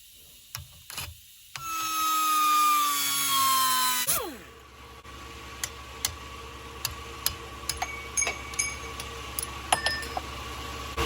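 A cutting tool bites through the bearing collar on a Ford 8 or 9 inch rear axle in one loud, harsh burst of about two and a half seconds. It winds down, then scattered light ticks and clinks follow.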